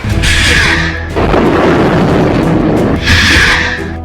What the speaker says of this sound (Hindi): इसके बाद लॉन्च हुआ तीसरा रॉकेट।